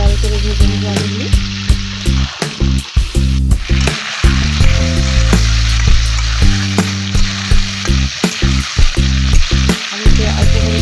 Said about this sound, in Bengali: লাল লাল করে ভেজে নেব আলুগুলি।